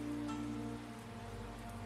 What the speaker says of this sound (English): Can you at least wait until it stops raining?